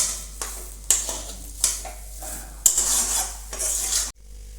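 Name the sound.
stirring green kebab mixture with lemon juice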